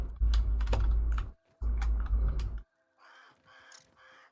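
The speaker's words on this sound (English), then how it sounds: "I hear the crow. It's not too far away if I can hear it." A crow in a video game caws in bursts: two loud, close clusters of harsh calls with sharp clicks, then a softer, more distant series of caws.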